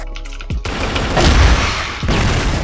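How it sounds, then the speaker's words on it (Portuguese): A smoke grenade goes off in a tactical first-person shooter, a sharp metallic click followed by a loud sustained hissing burst and low rumble, with a second pop near the end. "Granada de fumaça!"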